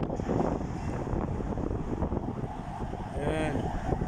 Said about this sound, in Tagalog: Ang lakas ng hangin dito sa taas.